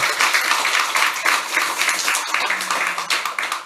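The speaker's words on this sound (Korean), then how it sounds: "우리 다시 한번 경의 박수하겠습니다" A church congregation at a Sunday worship service claps in dense, continuous applause after a choir performance, a crowd sound filling the whole moment without talk.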